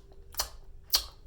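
A voice imitates the pop of bubblegum in two short, sharp mouth pops about half a second apart, close and fairly quiet, with no talking in between.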